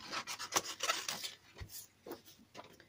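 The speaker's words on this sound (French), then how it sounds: "je vais découper ce petit morceau de rouge" Scissors snip a small piece of red paper for a handmade monochrome card, a quiet close-up series of short crisp cuts and paper rustles, irregularly spaced over about three seconds.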